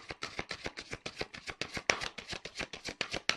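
Tarot cards being shuffled and drawn, a brisk run of about sixteen crisp riffling slaps at an even rhythm, close and fairly quiet, with no voices over them.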